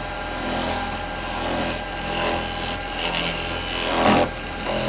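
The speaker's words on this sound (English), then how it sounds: "Now I'm just going to go with a detail chisel at first." Wood spinning on a lathe and cut with a detail chisel while turning a scoop, a steady scraping rasp over the motor's hum with swelling and fading strokes, loudest near the end.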